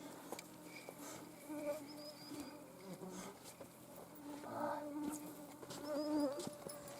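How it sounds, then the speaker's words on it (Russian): Mosquitoes whine and buzz continuously close by in the taiga, a swarm of thin droning tones rising and fading, with faint rustling underneath. "Вот это жужжание в ушах будет у нас жужжать. Сколько комаров."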